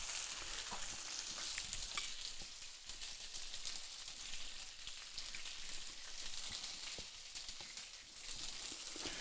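A hamburger patty topped with jalapeno mustard frying in a pan, giving a steady, close, loud sizzle that runs throughout without speech.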